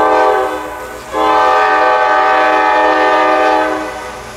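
Freight train I-141 sounds a long, loud horn blast as it takes a connection track onto the Toledo sub in Ohio, the chord dipping briefly before resuming and then fading.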